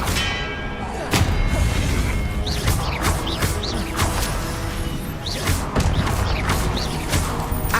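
Expelliarmus disarming spell in Hogwarts Legacy: a sharp magical crack lands, then a run of clanking thumps, crashes and ringing impacts, with some low game voice under the loud combat noise.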